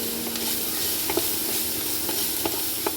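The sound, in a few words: onion frying in a pan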